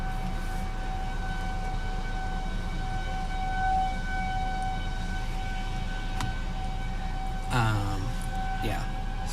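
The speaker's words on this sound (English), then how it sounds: "they're setting the sirens off here." Tornado warning sirens wail steadily in the distance during a storm chase in Kentucky and Illinois. A faint sustained tone holds across the whole stretch, a nearer rising sweep cuts in near the end, and rain or wind rumble sits underneath.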